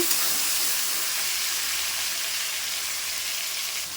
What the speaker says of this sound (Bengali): এবার দিয়ে দিলাম টমেটোটা তো দুটো ভালো করে একটু ফ্রাই করে নেব